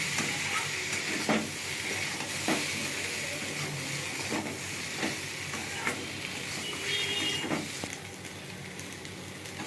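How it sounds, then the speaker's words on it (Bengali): Fish roe, okra and potato stirred together in a hot pan, a continuous sizzle and steamy hiss broken by regular spatula scrapes and taps, close by and without any voice. "দিয়ে একসঙ্গে ভালো করে নেড়ে নেবো।"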